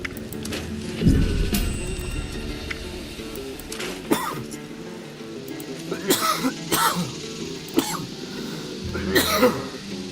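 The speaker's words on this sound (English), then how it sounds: "Guess I still had a secondary wave of frustration and coughing." A person coughs and clears their throat several times, with sharp, scattered bursts standing out against a quiet indoor background with faint hum and tones.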